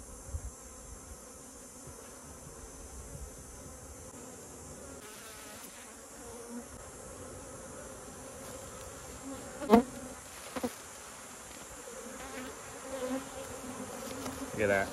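Dense honeybee swarm buzzing steadily as comb frames are moved out of a packed swarm trap, a constant insect drone with a few brief louder bumps and knocks from handling.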